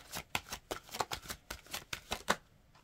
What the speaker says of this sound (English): I'll pull one of these cards